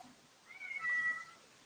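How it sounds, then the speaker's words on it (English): A cat outdoors lets out a single drawn-out meow, faint and somewhat distant, rising and falling over about a second against quiet background. "I can hear a cat."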